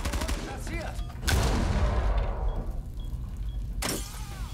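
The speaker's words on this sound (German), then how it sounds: "Da wurde jemand beschossen, da gab's einen Schuss neben den Gegner und damit ging das Fenster auf." Gunfire in the Rainbow Six Siege video game, with a shot breaking a window: a sharp loud burst near 1.3 seconds, a sustained clatter of noise after it, and a second sharp crack near the end.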